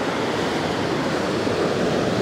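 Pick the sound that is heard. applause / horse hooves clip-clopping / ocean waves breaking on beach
ocean waves breaking on beach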